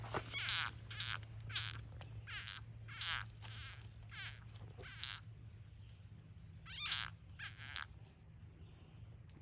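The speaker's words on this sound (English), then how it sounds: "that's a garter snake eating a frog" A frog being eaten by a garter snake gives a run of shrill, squealing cries in quick succession, nearby and fairly loud, over a low steady hum.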